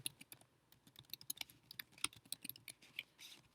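Rapid, irregular clicking of keys on a computer keyboard while text is entered in a photo-editing program, crisp and close with no talking.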